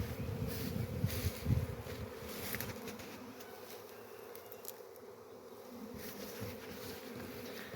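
A bee swarm entering a trap near acacia trees gives a continuous buzzing hum of many bees, moderately close and steady, with some rustling and handling noise early on.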